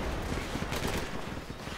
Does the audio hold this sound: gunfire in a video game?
yes